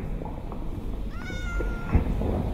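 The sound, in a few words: cat meowing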